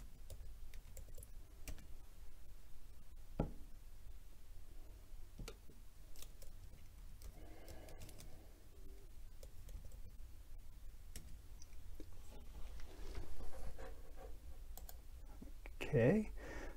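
Keys on a computer keyboard clatter quietly as someone types a web search on a Mac, with sparse, uneven clicks and short pauses between strokes, close by and faint.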